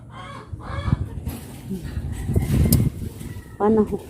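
Chickens cluck and squawk close by in short bursts, mixed with rustling and scratching noises.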